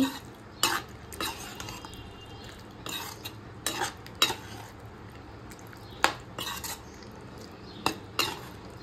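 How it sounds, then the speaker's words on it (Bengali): Boiled chickpeas are stirred with spices in a pan for chana masala. A spoon clanks and scrapes against the metal in irregular, separate strokes over a low, quiet sizzle. "কাবলি ছোলাগুলিকে সমস্ত মশলার সাথে ভালোভাবে মিশিয়ে নিচ্ছি।"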